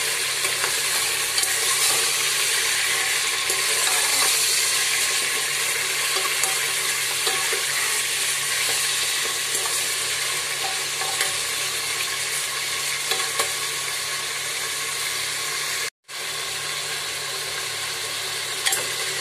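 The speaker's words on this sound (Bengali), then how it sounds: "চার পাঁচ মিনিট হাই ফ্লেমে একটু ফ্রাই করে নিয়ে" Mutton frying on a high flame while being stirred, giving a loud, dense and continuous sizzle close up that cuts out for a moment near the end, with no speech.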